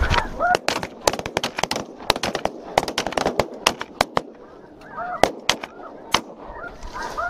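Snow geese honk in a noisy flock during a hunt, their calls overlapping while sharp shotgun blasts crack repeatedly in rapid bursts close by.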